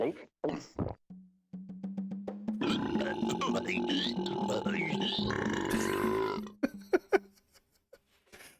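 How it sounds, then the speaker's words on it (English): A clay character in The Neverhood video game lets out a long, loud, growling burp after eating fruit, stretching over several seconds, framed by short game sound effects before and after. "if you continue to eat the fruit, you just progressively get louder and longer burps"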